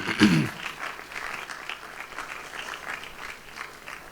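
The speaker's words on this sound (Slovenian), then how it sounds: "prosim tudi en aplavz za njih" Applause from an outdoor May Day celebration crowd at Opatje Selo, a brief louder burst at the start settling into steady, moderately faint clapping throughout.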